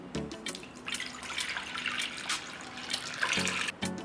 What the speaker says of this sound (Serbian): Limun ću preliti sa vodom